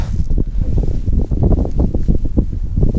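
Strong wind buffets the microphone in low, gusty rumbles that swell and fade continuously for a few seconds, on a cold mountain hike in the Mercantour, around 3°C.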